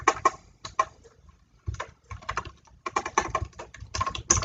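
Keys on a computer keyboard clatter in quick close bursts, pausing briefly around the first second before resuming in dense rapid runs of clicks.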